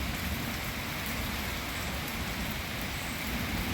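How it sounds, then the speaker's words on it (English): Steady rain pours down outside as an even, dense hiss of drops that holds constant and fairly close throughout, with no voices. "I'm just letting this rain pass"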